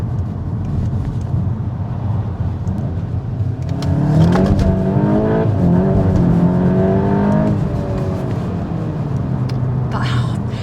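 A front-wheel-drive Cupra hatchback pulls away and accelerates, the engine note climbing steadily through the revs under continuous road and cabin noise, while a person talks over it.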